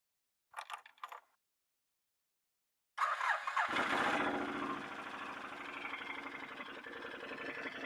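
Can-Am Outlander 500 ATV running without a muffler: a couple of short sounds, then the engine cranks, catches and settles into a loud, raw, steady close-up run.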